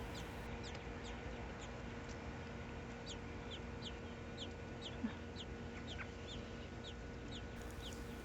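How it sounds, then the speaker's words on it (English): Four-day-old baby robin chicks peep in quick, repeated high chirps, thin and fairly faint over a steady background hum. "The 3 cute chicks are just 4 days old."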